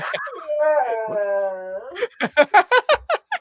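A dog whines in a long, drawn-out tonal whimper, then lets out a quick series of sharp rhythmic yips or barks, close and loud, with a person's voice nearby.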